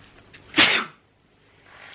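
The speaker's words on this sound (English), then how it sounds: "There was a sneeze coming." A single sharp sneeze bursts out about midway, short and close, with near silence around it.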